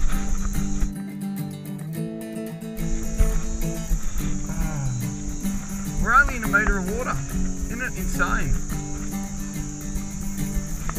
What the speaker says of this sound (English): You can hear those cicadas going